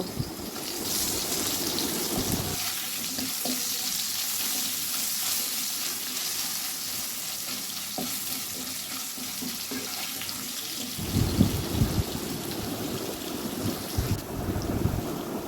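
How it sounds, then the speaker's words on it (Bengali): A steady, dense sizzling hiss of potatoes frying in hot oil with turmeric and salt runs throughout, getting a bit louder and crackly toward the end, with no talking. "অল্প একটুখানি লবণ দিয়ে আলুগুলো খুব ভালোভাবে ভেজে নেব"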